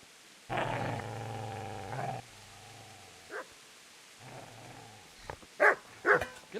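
A dog in Kingdom Come: Deliverance snarls with a long, loud, close growl, followed by a quieter rumbling growl, then a few sharp barks near the end.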